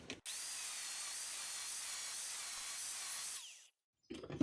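A rotary tool cuts open an old plastic car gas filter, a steady high-pitched grinding whine held for about three seconds before it winds down and stops, followed by a short clatter of handling.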